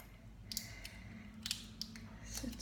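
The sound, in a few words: scissors cutting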